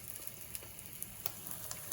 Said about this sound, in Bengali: এই দেখো একটা ভাজা হয়ে গেছে, এবার আরেকটা দিয়েছি, এইভাবে সব কটা ভেজে নেব।